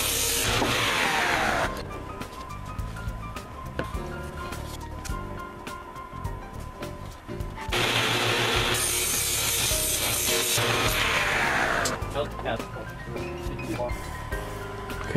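A power tool squares up the edges of 2x4 lumber for a mini sawmill base frame, giving a loud, continuous grinding rasp that surges in two longer passes. It sounds close, with no talk over it.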